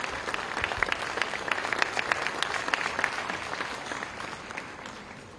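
Audience applause at an Odisha government ceremony where newly appointed higher education officers receive appointment letters from the Chief Minister; steady dense clapping across the whole stretch, tapering slightly at the end, with no talk over it.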